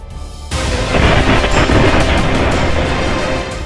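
A sudden, powerful explosion erupts at Nowgam police station after a brief quiet, then a loud rumbling roar rolls on and slowly fades.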